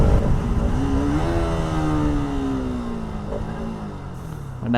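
A Bajaj Pulsar RS 200 motorcycle rides along at steady speed, its engine note close and loud, rising slightly in pitch and holding a continuous hum with wind rush, then easing off near the end.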